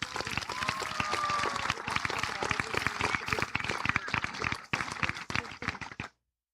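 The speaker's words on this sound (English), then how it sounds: "Let's get a round of applause for them, everyone." A high school commencement crowd applauds for parents and guardians, dense sharp clapping that thins out near the end before cutting off to silence.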